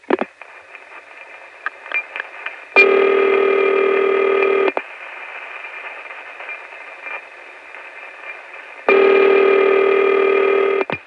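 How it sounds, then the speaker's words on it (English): Ringing signal on a New York Inward operator line in the 1975 telephone network: two long, steady buzzing tone bursts several seconds apart, heard over faint line hiss and clicks. "This is New York Inward ringing."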